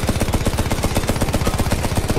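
Rapid automatic gunfire in a Doom SnapMap match, a steady burst of evenly spaced shots repeating roughly every tenth of a second, loud and close with no pauses.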